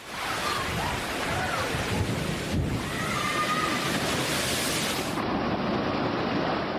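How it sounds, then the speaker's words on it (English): Tsunami waves crashing onto the shore in Thailand, heard as a dense, continuous roar of churning water and turbulent noise, moderately distant and unbroken throughout. "Then, a mountain of waves came crashing in."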